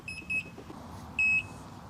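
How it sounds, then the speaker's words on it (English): A Gotway MSX 100V electric unicycle lifted off the ground gives short high electronic beeps, a quick pair of chirps followed by one longer tone, clear over low outdoor background noise. "You can do a lift test and see if it beeps."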